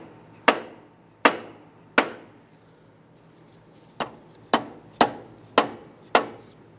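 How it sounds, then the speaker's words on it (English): Sharp metallic taps struck against the AC compressor of a 1994–2004 Ford Mustang: eight close, loud hits with ringing decays, three evenly spaced, a pause, then five quicker ones. "I'm going to go ahead and tap the AC compressor."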